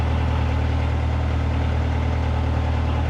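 A car engine idles in a low, steady rumble with a constant hum and vibration, heard close and unbroken.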